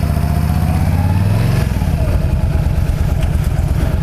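A big old motorcycle rides across grass among trees, its engine loud and close with a steady, rough mid-pitched drone that shifts slightly as it moves.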